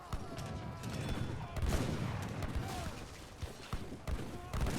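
A massed rifle rider cavalry unit firing in the strategy game Age of Empires III, a ragged fusillade of crackling shots and thumps over battle noise, with a commentator's voice underneath.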